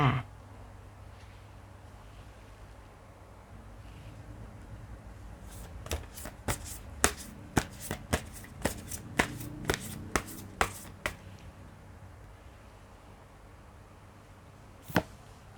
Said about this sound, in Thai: เดี๋ยวเรามาเปิดไพ่ฟังคำทำนายไปพร้อมๆกันเลยค่ะ